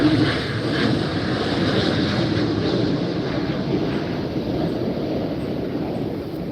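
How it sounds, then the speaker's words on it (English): A passing airplane produces a steady, broad roaring drone that stays loud and even for several seconds, with no talking over it. "An airplane is passing, guys. Just 1 minute. It's so loud."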